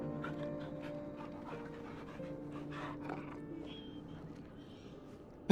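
Torgal, the dog from Final Fantasy XVI, pants softly and steadily in rhythmic breaths over a low game ambience, with a sudden loud hit at the very end.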